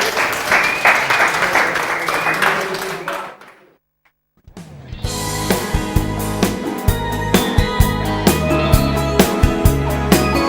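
A television studio audience at an Italian music show claps loudly for a few seconds, the applause thinning into silence before band music starts up.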